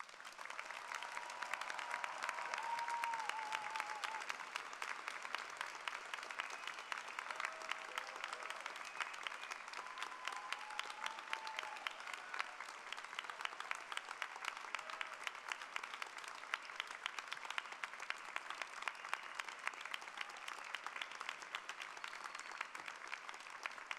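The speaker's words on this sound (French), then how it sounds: "Maintenant, nous pouvons tous ensemble applaudir à leur succès." A large audience at a university graduation ceremony gives sustained, even applause, a dense wash of many hands clapping from a distance that carries on without a break.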